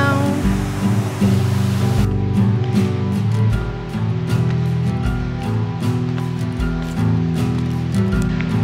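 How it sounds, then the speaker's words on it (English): Little streams trickling and flowing on Flores Island in the Azores, a steady broadband wash of running water that continues throughout, with no talk. "Little streams everywhere."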